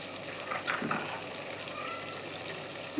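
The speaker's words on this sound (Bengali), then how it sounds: "এখন আমি এটার মধ্যে অল্প জল দেব, না হলে মশলা দিলে মশলা পুড়ে যেতে পারে।" A small amount of water poured into a cooking pan while making a fish curry, a short splash and gush under a steady hiss of cooking, with no talking.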